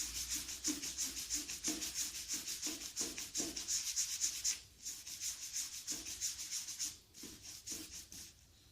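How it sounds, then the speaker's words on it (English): A paintbrush rubs grey paint onto stone garden furniture in a steady series of rhythmic, close scrubbing strokes, fairly quiet, with a brief pause before the strokes continue. "just put your paint on the brush, rub it into the brush."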